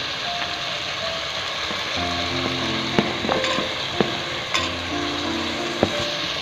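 Chopped beans and carrots sizzle and crackle steadily in hot oil in a pan while veg biryani is being cooked, with a few louder clinks and stirring knocks over the continuous frying hiss.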